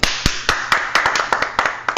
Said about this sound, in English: I'm giving a slow claps